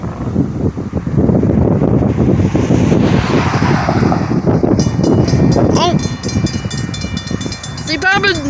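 A train nears a railroad crossing, its rumble swamped by heavy wind buffeting the microphone, with a couple of short horn blasts sounding toward the end.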